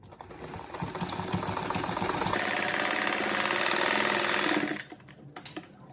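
Sewing machine stitching a reinforced seam on a fabric cat-shaped door stopper, a fast steady mechanical whir running continuously and close, then stopping abruptly near the end.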